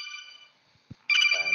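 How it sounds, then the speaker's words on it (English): A mobile phone ringtone bursts in loud and close, a bright repeating electronic melody that follows a short stretch of a fading tone and a soft thump. "That was my phone."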